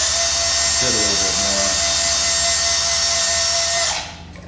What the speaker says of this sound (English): As you're going through the epoxy seam that holds the block to the spar, you're going to find some of your drill dust kind of hangs up in the